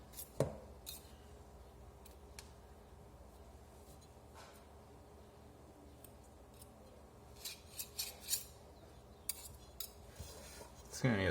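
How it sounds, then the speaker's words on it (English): Stainless steel whisk scraped and tapped while being cleaned of pizza dough, scattered faint metallic clinks and rubs through a quiet room, with a brighter cluster of taps toward the end. "Just trying to get this stuff out of the whisk"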